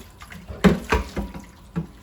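Tap water splashes over a dish in a kitchen sink during a one-handed rinse, in a few short uneven gushes, close and fairly loud.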